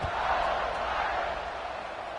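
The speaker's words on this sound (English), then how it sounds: "this crowd is buzzing after that last score" A stadium crowd in the college football video game CFB 26, Cal at Notre Dame, keeps up a steady, loud, dense buzz before a kickoff, a continuous roar with no clear breaks.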